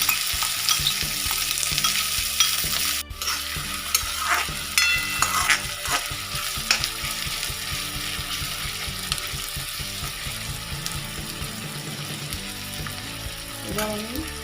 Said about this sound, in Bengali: পেঁয়াজ কুচানো ছিল, পেঁয়াজ কুচানোগুলো দিয়ে দিলাম।